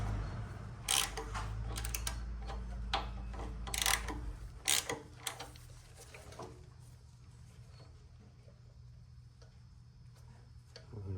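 A ratchet wrench clicks in quick bursts while tightening the carburetor nuts on a Honda GX270 engine, sharp close ticks over a low hum that fade into quieter fiddling.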